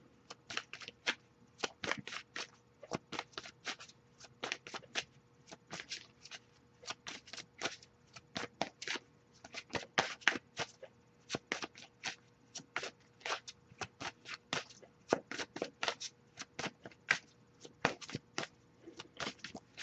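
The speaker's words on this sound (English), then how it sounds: "I'll give it a few more shuffles" Tarot cards shuffled over and over, a steady run of crisp riffling flicks with brief pauses, close and fairly quiet.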